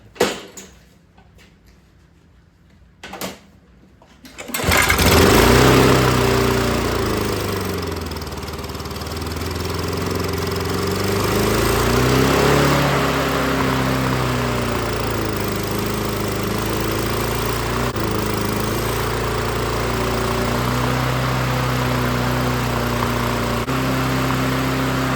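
A John Deere JS63 mower with a Briggs & Stratton 6.75hp engine is pulled twice, then catches and starts, settling into a steady, loud running drone that holds for the rest of the clip.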